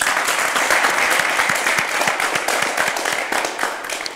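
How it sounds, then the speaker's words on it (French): Studio audience applauding at the finale of the French TV quiz show 7 Génies, a dense, steady burst of clapping that fills the moment and tapers slightly toward the end. "Dimitri, le scientifique pour lequel on applaudit encore."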